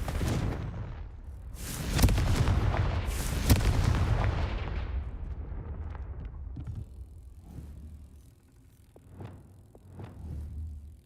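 An explosive Confringo spell goes off in a video game, a series of heavy booming blasts with rumbling decay, followed by a quieter stretch with a few softer impacts.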